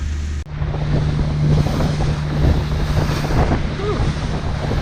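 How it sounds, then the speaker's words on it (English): Loud wind of about 28 knots buffets the microphone aboard a trawler on open water, with rushing waves and a steady low engine hum beneath, continuous and close. "28 knots of wind coming over the port bow."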